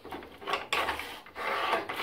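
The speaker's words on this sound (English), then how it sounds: "Slides easy enough along the table. Twist to tighten it down." A plastic-and-aluminium mitre gauge slides back and forth along the table of an Aldi Ferrex 10-inch bandsaw, giving close, short rasping scrapes in quick strokes.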